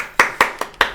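Several people clap in a D&D wedding celebration, five sharp, evenly spaced claps in about a second, close and distinct with no talking.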